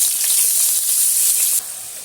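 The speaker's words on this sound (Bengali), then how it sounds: "পেঁয়াজটা আমি তেলের মধ্যে দিয়ে দিচ্ছি।" Three chopped onions sizzle steadily in hot oil as they go into a pan for a Bengali rohu fish curry, a loud, close, bright hiss throughout that drops a little in level near the end.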